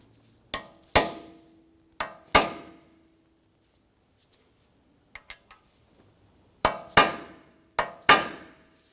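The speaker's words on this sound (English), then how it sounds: "use a small chisel tip punch, and we're going to dimple the spindle nut into the axle notch here to keep that from backing off" A hammer drives a small chisel-tip punch to dimple the spindle nut into the axle notch on an Acura TL, with several sharp metallic strikes in pairs separated by quiet gaps and a couple of lighter taps.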